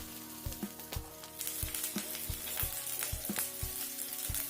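Potatoes being stirred and softened in hot oil for dum aloo, a soft continuous sizzle under a run of regular low thumps and scrapes from the stirring spoon, close by with no voices.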